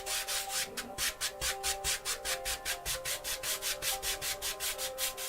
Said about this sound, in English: I'm going to work this into the canvas. Okay, crisscross strokes as we go along.